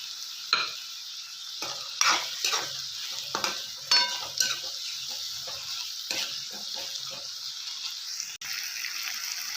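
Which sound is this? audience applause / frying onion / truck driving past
frying onion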